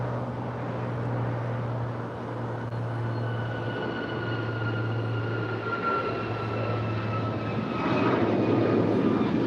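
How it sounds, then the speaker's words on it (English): United Boeing 737 MAX 9 jet departing Los Angeles airport: a steady, moderately loud engine drone with a low hum and a thin whine, swelling slightly toward the end, with no voices over it. "And that is United 1219 off to Kahului, 737 MAX 9"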